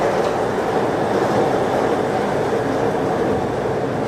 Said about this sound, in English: I think I hear the monorail too. That is indeed the monorail.